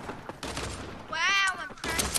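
A pistol is fired in a video game, heard as quick gunshot bursts mixed with an excited voice talking loudly over the action.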